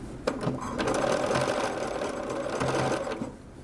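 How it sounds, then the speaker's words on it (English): Sewing machine top stitching with yellow thread, a steady close mechanical whir with rapid needle chatter running continuously for a few seconds, no voices. "I am just top stitching down with yellow thread."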